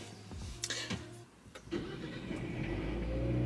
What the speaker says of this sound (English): That was my, my car starting